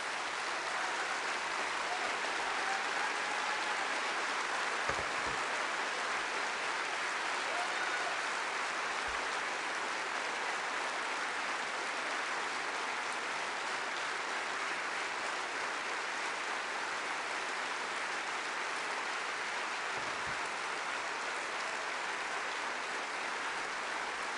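Labour Party conference audience applauding NHS staff, a dense, sustained wash of clapping from a large hall that holds steady throughout, with a few faint voices beneath.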